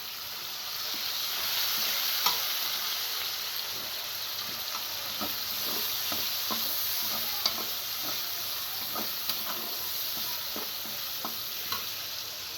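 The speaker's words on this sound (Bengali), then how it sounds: "পেঁয়াজ কুচিটা দিয়ে আমি একটা লাড়া দিয়ে দেব।" Chopped onion sizzles in a pan while being stirred, a constant frying hiss punctuated by scattered spatula scrapes and clicks, close and moderately loud.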